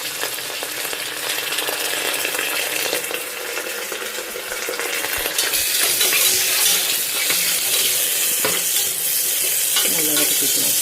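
Ginger-garlic paste sautés in a pan of oil for vegetable rice, giving a steady, close, loud sizzle with spoon scrapes and clinks. The frying grows brighter and louder midway as stirring continues.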